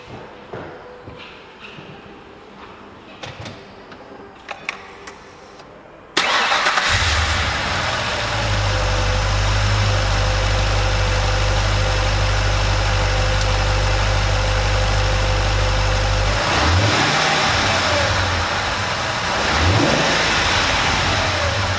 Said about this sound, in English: give it a start, give it a few little blips so you can have a listen to it and just appreciate this Aussie muscle car